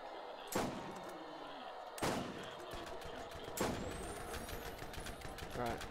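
SMG fire in Borderlands, with three distinct loud bursts spaced a second or more apart over a constant din of game noise and background clatter.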